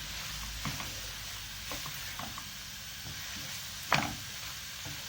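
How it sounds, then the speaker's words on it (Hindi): Onions and tomatoes sizzle in a pan with a constant soft hiss, broken by occasional spoon scrapes and one sharper clatter near the end as they are stirred together. "तो हम अच्छी तरह से अब मिक्स कर लेंगे प्याज टमाटर के साथ।"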